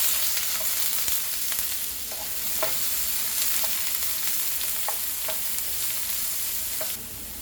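Chopped large onion frying in hot oil with cumin seeds, a loud continuous close sizzle with occasional stirring scrapes and crackles, with no talking.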